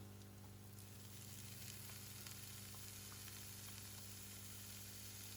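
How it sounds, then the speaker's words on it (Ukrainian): Constant crackling sizzle of pork belly frying in a hot pan, with faint pops over a steady hiss and a low hum underneath. "вкидаю туди нашу підчеревину, щоб вона підрум'янилася на сковорідці"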